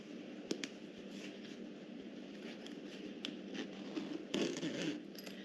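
A coat zipper is threaded and zipped during a repair, giving faint, quiet scratchy rasps with a few sharper clicks, close by and alone.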